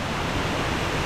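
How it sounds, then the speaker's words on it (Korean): A very large waterfall in Indonesia roars as a dense, steady, loud wash of falling water, constant throughout with no breaks and no voices. "이렇게 엄청 큰 폭포는"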